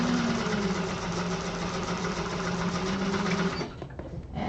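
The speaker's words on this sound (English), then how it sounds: "So should be sewing right beside that." A sewing machine stitches the exterior of an Aster bag, a steady, fast mechanical whirring hum that runs continuously at moderate volume before briefly slowing near the end.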